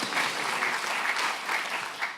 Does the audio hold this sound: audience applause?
yes